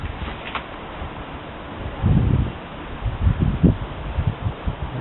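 Wind gusts through tree leaves outdoors, a soft, uneven rustle swelling and easing in short surges, mixed with low buffeting on the microphone and no talking.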